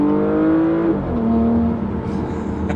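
A Porsche Panamera Sport Turismo eHybrid engine rises in a close, loud rev after a downshift into second on a greasy road, its pitch climbing, dipping, then holding steady.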